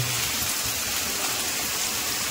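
Heavy rain falls outside under cloudy skies, a steady, dense hiss of drops on surfaces, even and unbroken throughout, with no voices.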